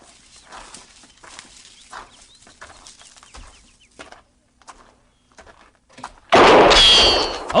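Radio drama gunshot fired from a hut: a sudden loud, sharp blast near the end that rings out briefly, following quieter clanks and faint bird-like sounds.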